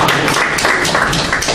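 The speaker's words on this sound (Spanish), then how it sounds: "Bueno, muy bien, un aplauso." A church congregation applauds in a steady, dense wash of clapping that stays even and fairly loud from start to finish, with no break and no voices on top.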